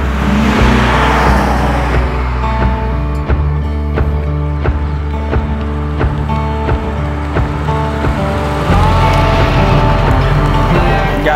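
An old pickup truck's engine drones loud and close, a steady low rumble with faint ticking throughout and a rise in revs toward the end.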